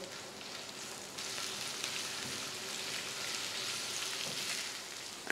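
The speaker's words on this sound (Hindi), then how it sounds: "और इसमें हम प्याज डाल देंगे, गोल्डन ब्राउन होने तक हम इन्हें फ्राई करेंगे मीडियम फ्लेम पे" Sliced onions fry in oil over a medium flame, a continuous hissing sizzle that swells and stays steady and close, with no talking.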